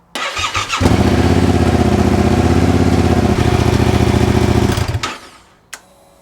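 A Yamaha Tenere 700 motorcycle engine cranks and fires, then runs loud and steady close by for several seconds before cutting off abruptly.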